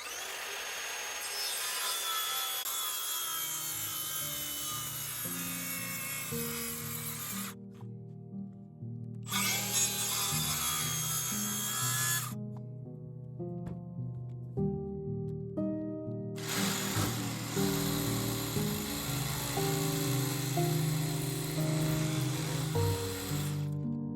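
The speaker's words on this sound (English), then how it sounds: "I'm going to use the circular saw to make most of the cut, and then the jigsaw just to finish off" A circular saw cuts through thick wet timber, with long, loud grinding passes that stop twice for a few seconds before the blade resumes its harsh, sustained cut, close by and with no talking.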